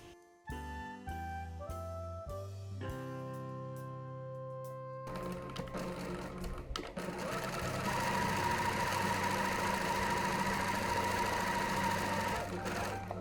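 A sewing machine runs steadily to sew a bodice princess seam, coming in after a few seconds of sustained musical notes and continuing as an even mechanical whir to the end.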